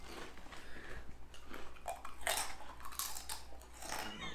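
Crunchy chips being bitten and chewed up close at a barbecue joint, a handful of sharp, brittle crunches scattered irregularly over quiet room noise, faint overall.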